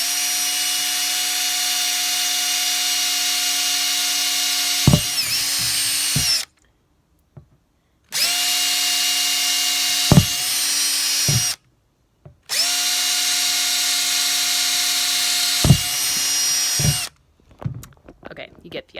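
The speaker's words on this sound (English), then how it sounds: "I'm just going to drill." A power drill whirs steadily in three long runs separated by brief pauses, loud and close, with the motor pitch dipping as it bites in while drilling holes in a worm compost bin.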